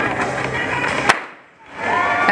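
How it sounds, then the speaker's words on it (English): A starting pistol fires to start a bicycle race in a Cat 4/5 criterium, one sharp crack over busy outdoor crowd and road noise, which fades briefly and then rises again. "She's gonna send you on her way as she starts, fires that starting pistol"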